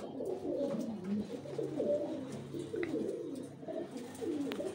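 Several pigeons coo steadily and close by in a loft where young birds are being trained, their low throaty calls overlapping continuously with faint rustling and no talk.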